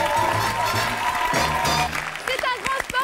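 Audience applause welcoming a singer onto a French television stage, a loud sustained wash of clapping that swells under a presenter's voice and music, then thins out as she arrives.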